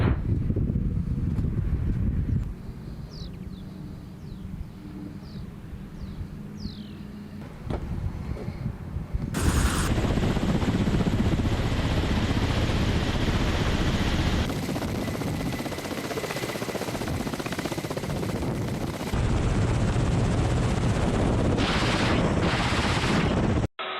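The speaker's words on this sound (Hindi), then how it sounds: "रूस के फाइटर हेलीकॉप्टर दनादन गोलीबारी कर रहे हैं।" Russian fighter helicopters roar in a loud, continuous wash of rotor and engine noise that swells and shifts over about twenty seconds, with bursts of gunfire and wind buffeting mixed in.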